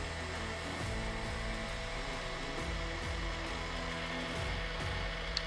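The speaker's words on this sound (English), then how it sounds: "And turn on your pump via the switch." A vacuum tumbler's vacuum pump runs with a steady, loud whirring hum and broadband hiss, continuous and unchanging throughout.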